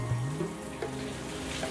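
A thin stream of water trickles and runs down at a high-altitude mountain site in Serra da Ibiapaba, a continuous splashing trickle with small bubbly bursts, no talk.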